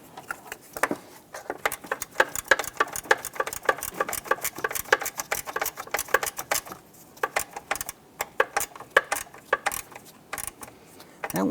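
A ratchet snugs down the engine mount bolts on a 2005-2007 Ford Five Hundred, giving a long run of quick, sharp clicks in steady bursts with short pauses, close and crisp.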